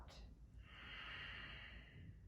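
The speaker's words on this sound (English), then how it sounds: "just keep breathing in and out through your nose. Ujjayi breath is part of your practice." Ujjayi breathing during an advanced yoga practice, one long steady hiss of air exhaled through the nose after a brief sharp intake, close and fairly quiet.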